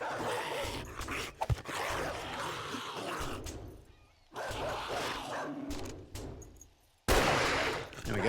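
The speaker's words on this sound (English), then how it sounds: "Got a dog." Gunfire and a dog attack in the survival game 7 Days to Die, with sharp shots and loud bursts of action over game noise, separated by brief pauses before firing resumes.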